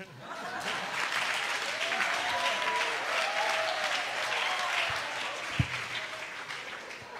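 A church audience claps at a spoken poetry event, with steady, moderately loud applause lasting throughout, a few scattered chuckles, and one sharp knock near the end.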